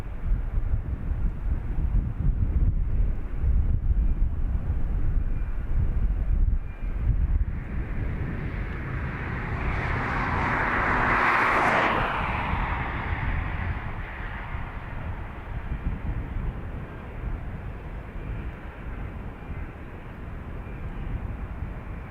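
A Dash 8 turboprop at Dublin Airport roars steadily and loud, with wind buffeting the microphone. The noise swells to a broad peak near the middle as the aircraft passes, then eases off.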